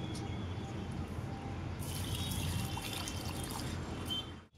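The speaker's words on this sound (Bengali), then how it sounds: "এবার আমি ফ্রাইড রাইসের চালটা পরিষ্কার করে ধুয়ে নেব।" Rice grains being rinsed in water for fried rice, a steady wet swishing and sloshing close by, continuous and fairly loud throughout with faint splashes in the upper range.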